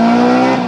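Lancia Delta Integrale rally car with a loud, close, sustained engine note, a steady high-revving tone filling the short moment without pause.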